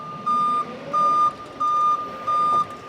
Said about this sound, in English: Backup alarm, so anybody behind you can hear that